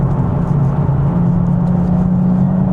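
A Nissan 370Z sports car engine heard from inside while driving, a loud steady drone with a low humming tone that climbs slightly, no talking.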